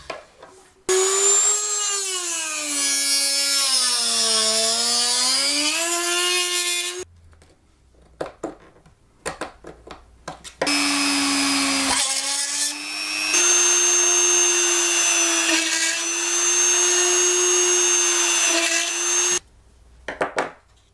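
A high-pitched rotary power tool cuts slits into the plastic housing of a Tetra IN1000 internal aquarium filter, whining loudly in several separate bursts with pitch dipping under load, separated by short pauses and faint handling noise.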